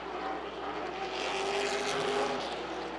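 Late model race cars at Wake County Speedway, an oval short track, heard as a distant engine roar rising and falling as a car passes, with a steady broad background of track noise.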